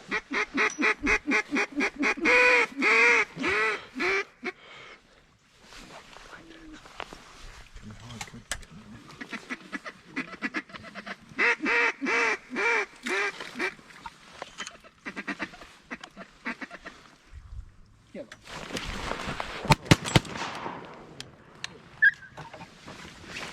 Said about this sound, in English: Watch the mallard.